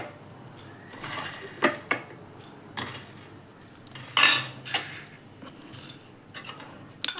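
Homemade mukwas is mixed in a bowl, with irregular clinks and scrapes of a spoon against the dish, one louder rattling burst midway, close and quiet, without speech.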